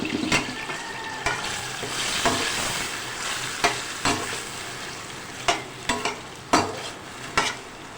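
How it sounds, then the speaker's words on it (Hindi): Tomatoes and a large onion fry in a pan with a steady sizzle, broken by repeated sharp clacks and scrapes of a spoon stirring against the pan. "जब तक हमारे ये टमाटर फ्राई हो रहे हैं"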